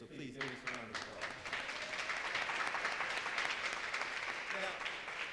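A forum audience gives a steady round of applause, building and holding as a dense wash of clapping at moderate distance, with a voice talking briefly at the start.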